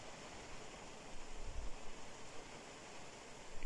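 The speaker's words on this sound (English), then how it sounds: "So it is starting to pour down" Heavy rain pouring down in Kruger National Park during Cyclone Freddy, a faint, steady hiss of rainfall with a few soft low thumps and no voices.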